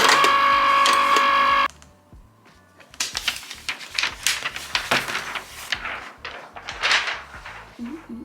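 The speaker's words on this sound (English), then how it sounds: "Actually, we should cut on the Cricut first." A Cricut machine cuts out a sunflower shape, a steady mechanical whir for the first couple of seconds, then a quieter gap followed by busier clicking and shuffling handling sounds close by.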